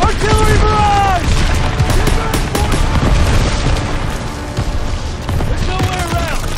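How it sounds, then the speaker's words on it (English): An artillery barrage in Call of Duty WWII on Hill 493 brings dense, loud, continuous booms and blasts, with shouting voices over the chaos. "Get down! Artillery barrage!"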